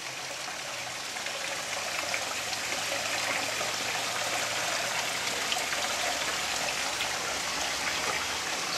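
Steady trickling and splashing from a water feature in a backyard patio sitting area beside a hot tub, a continuous, even wash of water heard alone without talk.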